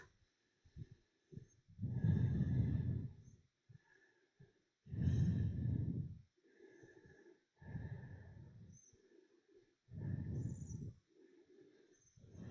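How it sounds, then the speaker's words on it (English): Slow, deep yoga breaths during a vinyasa class, with long full inhales and exhales alternating in a steady rhythm of about four rounds, close and prominent, with softer breaths between them. "Breathing, 3 more rounds of breath."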